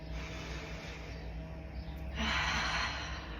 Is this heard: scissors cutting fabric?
no